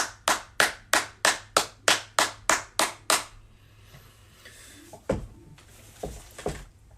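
Applause for the youth: a single pair of hands claps nine times, close and evenly spaced. Quiet follows, broken by a few scattered thuds.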